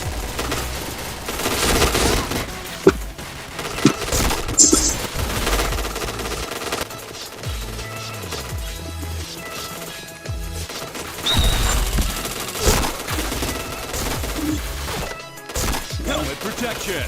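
Automatic gunfire rattles in a shooting video game: rapid bursts of shots and sharp single cracks over a busy game soundscape, loud and close, with brief gaps between volleys.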